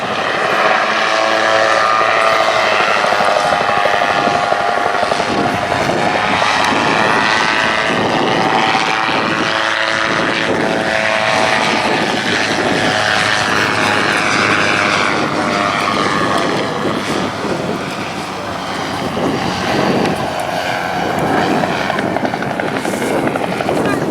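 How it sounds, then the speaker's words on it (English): A Rotorsport Calidus autogyro flies a display at the Duxford Air Festival, its loud, steady rotor and propeller drone filling the air for the whole stretch, with slight swells as it passes. "So, coming in to take his final bow, do show your appreciation to Peter Troy Davies on the Rotorsport Calidus Autogyro"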